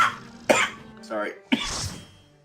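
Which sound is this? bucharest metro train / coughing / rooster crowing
coughing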